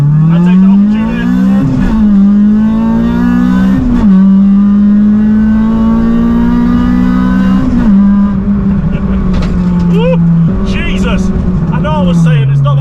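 A caged Honda Civic engine revs hard under acceleration on a quiet country road, its steady loud drone climbing in pitch through several gear changes with brief dips between shifts, heard from inside the car.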